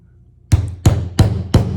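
Four sharp hammer strikes punching through a stack of book paper for stab binding, evenly spaced and close, each a crisp knock with a short ring after silence.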